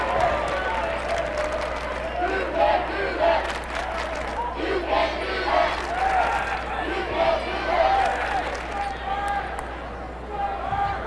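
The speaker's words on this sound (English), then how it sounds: "Screams the cheer block of Pike Central" The Pike Central cheer block at a high school basketball game screams and chants, with loud rhythmic crowd shouting in bursts and an arena hum underneath.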